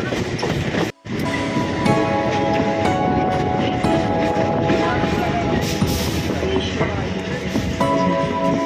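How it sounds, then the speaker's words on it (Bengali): A train pulling into Sonarpur station, a loud, close, continuous rumble and rattle of carriages with squealing wheels and a brief cut near the start, mixed with voices in the background. "আমাদের ট্রেন সোনারপুর স্টেশনে ঢুকছে"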